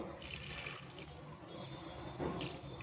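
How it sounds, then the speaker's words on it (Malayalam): Water poured into a pressure cooker holding jackfruit seeds for a dry stir-fry, a faint continuous splashing pour with brief louder bursts, alone without talk. "കുറച്ച് വെള്ളം ഒഴിച്ചാൽ മതി കാരണം ഇത് മെഴുക്ക് വരട്ടിയാണ്"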